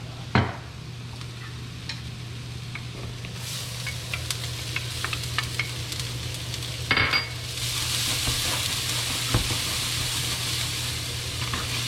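Olive oil hitting a hot pan to start farro, a steady sizzle with scattered clinks of pans and utensils, rising to a louder, brighter hiss in the second half.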